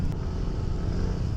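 Yamaha Aerox scooter engine revving at a night street-food strip, a steady loud broadband drone with a constant low rumble throughout, no clear pitch swell.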